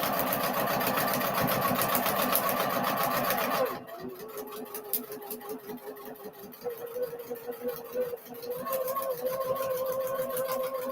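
A sewing machine stitching cotton fabric and thread runs loud and steady at first, then drops to a lower, uneven whir that slows and wavers while continuing close by.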